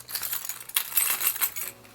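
Keys jingling inside a Saint Laurent Paris leather key case, a short burst of soft metallic clinks and rattles close by, muffled and brief with no talking.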